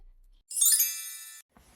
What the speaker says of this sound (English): That's the bell, kids.